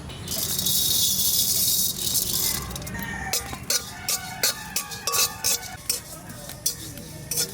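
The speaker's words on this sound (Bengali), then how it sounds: "প্রথমে আমি জিরেটা শুকনো খোলায় ভেজে নেব।" Cumin seeds dry-roast in a wok, starting with a steady dry sizzle and rustle, then a series of sharp metallic scrapes and clinks as a utensil stirs them, close and clear with no talk.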